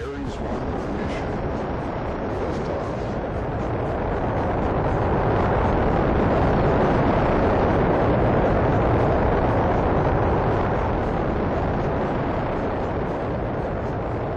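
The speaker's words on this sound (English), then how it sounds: "Once the Ares 5 has reached orbit, the Ares 1 will launch the crew into space." An Ares 1 rocket launches on its five-segment reusable solid rocket booster first stage, a continuous broadband roar that swells steadily toward the middle and stays loud and sustained to the end, with no voices over it.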